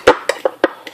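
Pancit canton tossed in a bowl with a utensil, giving five quick clinks and scrapes in a light, uneven rhythm, close and clear with nothing else heard.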